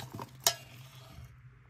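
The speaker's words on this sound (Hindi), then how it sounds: "अब हम इसको मिक्स कर लेंगे।" A spoon mixes yogurt, kasuri methi and spices in a pan for potato curry, giving soft, quiet stirring scrapes with one sharp metallic clink partway through, close and faint.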